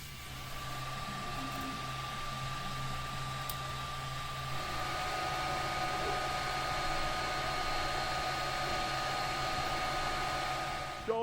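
Steady whirring machine drone with a faint high tone, continuous and unchanging, like a 3D printer running close by.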